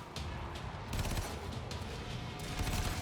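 Burst fire from the Hind rifle in Warframe, a dense rattling stream of rapid shots with repeated sharp bursts throughout, steady and moderately loud under no talk.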